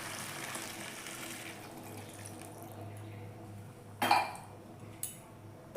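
Hot water poured into a simmering rohu fish curry: a steady, moderately loud wash of pouring water fills the first seconds, then settles, followed by a couple of sharp clinks of a pot or utensil near the end.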